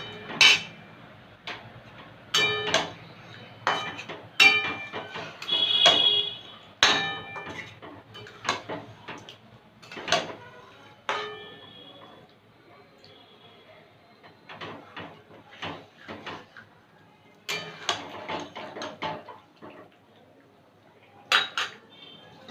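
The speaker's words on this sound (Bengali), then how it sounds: "মাংসটা দিয়ে ভালো করে কষাবো।" Chicken being stirred and fried in a pan, a metal spoon scraping and clanking against the pan in irregular bursts, close and fairly loud, with quieter pauses between.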